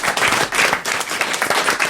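Brief, close rhythmic clapping from a small group greets a silver medalist on a French talk show, quick uneven claps at a lively pace.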